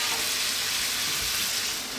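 Tomatoes cook over high heat in a pan for a chicken potato curry, giving off a steady, dense sizzle that holds loud and even throughout, with no voices.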